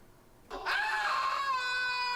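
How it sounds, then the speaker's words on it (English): A scream from the adventure video game Loom rises suddenly and holds as a loud, sustained, tonal wail that stays steady to the end, with no talk over it. "I guess we can also just loop the same scream."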